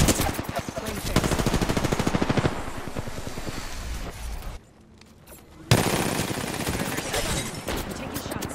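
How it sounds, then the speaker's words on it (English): Rapid automatic gunfire from enemies in the battle royale game Apex Legends, loud bursts of repeated shots over the first half, a brief lull, then renewed heavy firing with game noise. "I'm taking shots. The enemies are shooting."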